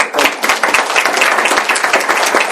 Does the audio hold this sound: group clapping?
yes